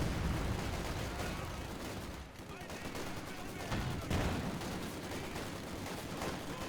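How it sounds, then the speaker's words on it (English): Penal troops open fire in Company of Heroes 2, a dense, continuous rattle of rifle and machine-gun gunfire with battle noise layered throughout, loud and steady across the whole stretch. "Penal troops opening fire."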